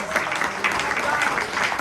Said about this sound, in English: Let's give these amazing people a round of applause.